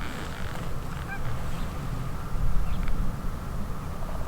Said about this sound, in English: Just heard some more geese.